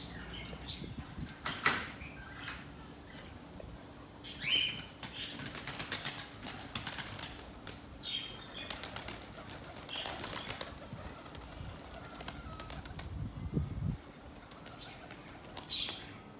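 Pigeons kept by a fancier flap their wings in several bursts of fluttering as they take off, mixed with soft cooing and quiet outdoor background, fairly faint and close.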